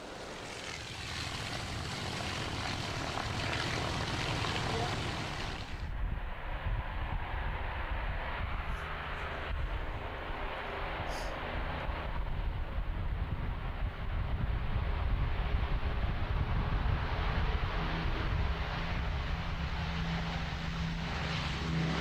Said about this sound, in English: Another aircraft flying out of Shoreham was the BBMF Lancaster, celebrating the 60th anniversary of the type.